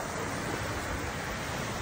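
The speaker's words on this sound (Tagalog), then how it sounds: "Yan to yung dagat o sa 6 o'clock in the morning" Sea waves wash steadily onto a shallow beach at six in the morning, a continuous broadband surf wash with wind noise on the microphone and no voices.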